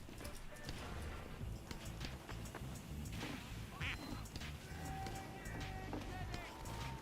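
Duck quacking inside the video game Team Fortress 2, heard as brief quacks mixed into a busy, continuous wash of game sounds such as footsteps and clatter, fairly faint overall.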